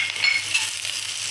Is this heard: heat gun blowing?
no